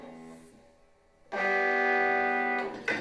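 An electric guitar chord rings out through a harshly distorted amp, buzzing and sustained after a quieter fading note, played on a left-handed-strung Momose custom Stratocaster.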